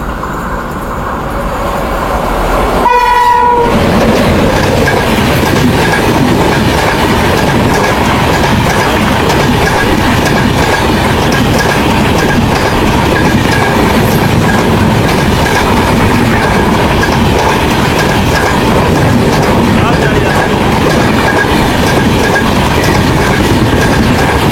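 A train passes close by a halted train at Verna station on the Konkan line in India, with a loud, steady roar and wheel clatter that starts within seconds and continues throughout.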